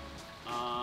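Light rain patters down outdoors in Los Angeles, a soft, steady hiss of drops that grows slightly louder partway through, quiet and unaccompanied by any voices.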